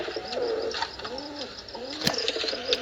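Pigeon cooing in a repeated series of soft, rising-and-falling calls, close and clear, with a couple of brief sharp clicks or wing sounds mixed in.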